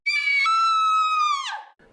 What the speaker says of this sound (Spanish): El alarido de Julie ensordeció la noche